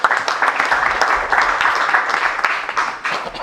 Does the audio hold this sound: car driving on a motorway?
no